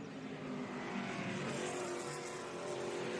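Vintage race cars at Mid-Ohio head down the main straight toward the Honda Bridge, a steady roar of engines heard from a distance, with a broad rushing drone that swells gently and stays unbroken throughout.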